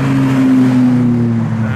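A Honda Civic drives past while leaving a JDM car meet, a loud close engine drone with a steady low hum that slowly drops in pitch as it passes.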